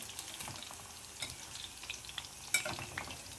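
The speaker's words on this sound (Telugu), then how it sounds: "ఈ విధంగా ఫ్రై అయితే సరిపోతుంది." Onions, dried red chillies and garlic frying in oil, a soft sizzle broken by scattered crackles and stirring taps, close but fairly quiet, no voices.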